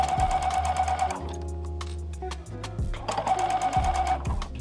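A sewing machine stitches bias tape around a bodice neckline in rapid bursts, loud and close, with a brief pause between two runs of fast needle chatter.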